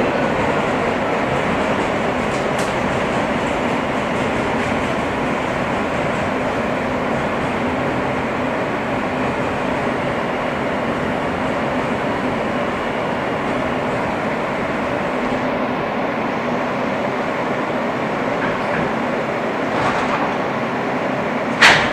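Steady rumbling roar of an R160 F subway train riding on board, a continuous rail drone that holds throughout with a faint clank near the end.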